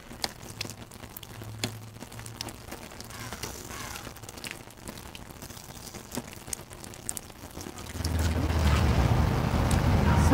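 A water fountain playing outdoors, a steady wash of splashing water that rises noticeably louder toward the end, with wind buffeting the microphone throughout.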